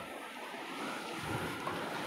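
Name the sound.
sea waves at Velneshwar beach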